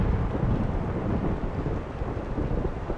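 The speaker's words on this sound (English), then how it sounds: "How is it raining in the absolute universe?" A thunderstorm in a video game on a galactic space train: steady heavy rain and low rumbling thunder roll continuously at a loud, even level for the whole stretch, with no voices.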